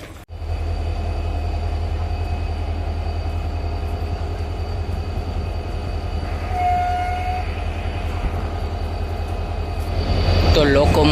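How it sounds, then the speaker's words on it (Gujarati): Train locomotive approaching on the line at Porbandar to be coupled to waiting coaches, a loud steady diesel rumble and rail noise building toward the end, with a sustained horn blast midway and a voice talking over it. "જો સામે લોકોમોટિવ આવે છે એ અહીંયા છોડાઈ જાહે."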